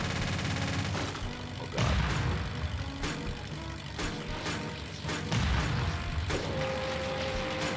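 Heavy gunfire from an enemy gun emplacement in the tank game Game Builder Garage, booming bursts and rumbling shots layered over dense game sound effects and music, with no talking.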